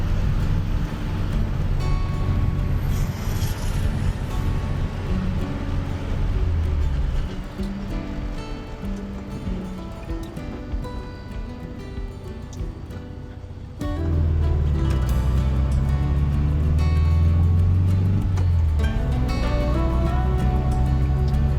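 A 1967 Volkswagen Beetle barn find driving for the first time in 46 years, with a low engine rumble and road noise heard close from inside, dipping midway and then surging louder again.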